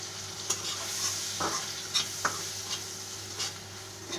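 Turmeric and dry chilli powder frying in oil in a pan, a constant close sizzle broken by a few distinct scraping stir strokes and light spoon taps, with no talking.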